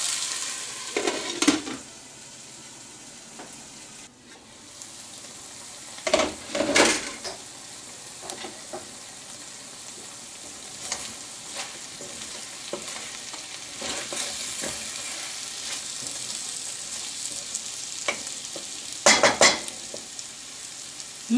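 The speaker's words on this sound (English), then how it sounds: "mix it well and cook till the potato and onions gets fully cooked on a low flame." Potatoes and onions fry over a low flame while being stirred in a pan, a steady soft sizzle broken by several louder scraping stirs, with no talking.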